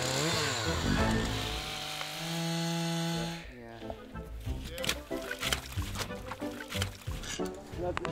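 A chainsaw engine runs loud and buzzing for about three seconds, then stops as the saw breaks, leaving scattered knocks and clatter, on sea ice.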